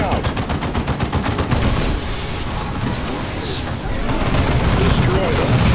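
Gunfire in Warhammer 40k: Dawn of War 2, with rapid machine-gun bursts up front giving way to sustained battle noise, while in-game voices speak over the shooting.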